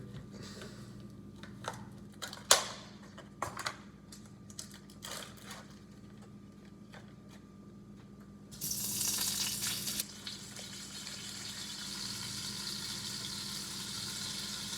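Olive oil and butter heating in a frying pan, giving a low steady sizzle after a few sharp clattering knocks, then a sudden louder hiss that settles into a constant crackle.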